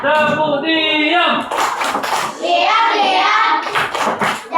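Schoolchildren in a classroom perform a rhythmic clap chant, with bursts of group clapping broken up by children's voices chanting and a teacher speaking.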